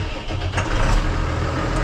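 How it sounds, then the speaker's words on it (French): A farm tractor's diesel engine cranks and catches after an oil change, a dense, loud rumble that steadies into a running drone over about two seconds, with no talk. "je vais faire tourner le tracteur"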